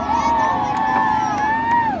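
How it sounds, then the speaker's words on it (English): Crowd at Beech Ridge Motor Speedway cheering and hollering through a car wars ramp competition, a dense sustained swell of voices with a few high whoops and whistles riding on top. "You guys, I need you guys to cheer and tell us."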